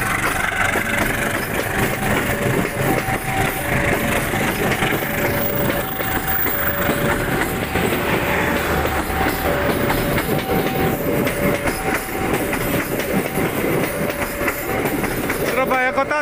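Wijayakusuma passenger train rolling past the Pagerwojo halt toward Surabaya, a loud, steady rumble of wagons with rhythmic wheel clatter and a sustained tonal whine lasting throughout, close to the listener.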